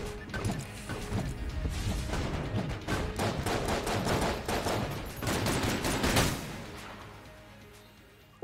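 Cannon firing in the video game Enter the Gungeon: a rapid, dense barrage of loud booming shots and impacts for several seconds, thinning out and fading near the end.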